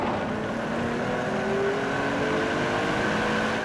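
A Ferrari Testarossa's V12 engine drones as a steady, loud hum with clear harmonic tones, holding constant with no sharp revs and no voices.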